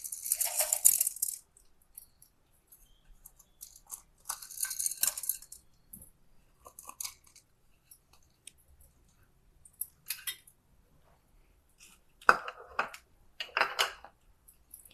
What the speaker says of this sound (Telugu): ఇప్పుడు ఆవాలు బాగా చిట్పట్లాడిందండి